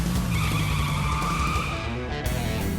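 A car skidding as a sound effect in a radio jingle: a loud, sustained tire squeal over engine roar lasting a few seconds, cutting off abruptly near the end.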